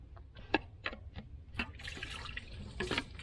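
Coolant water spilling from a 2017 Jeep Wrangler 392 during a DIY repair, heard as a faint, irregular splashing and trickling with a few sharper drips, close by and unaccompanied by talk.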